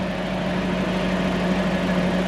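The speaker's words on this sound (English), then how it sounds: "Now, so that's like 500 RPM. It just sits there and idles." A Toyota 1UZ V8 sterndrive boat engine idles at about 500 RPM, a steady, loud, close low rumble with an even throb and no change in pitch, with no talking over it.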